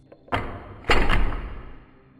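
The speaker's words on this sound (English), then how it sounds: "Something slammed outside, hard, close." A door slams twice nearby, two sharp heavy bangs in quick succession, the second louder and ringing out briefly.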